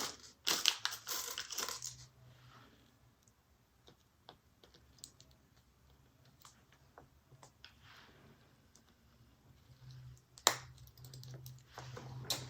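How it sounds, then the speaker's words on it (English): Rivet setting during a leather and sewing project: a burst of sharp crunching taps at the start, then scattered light clicks and handling sounds, and another sharp strike near the end, with no talk. "And set my rivet."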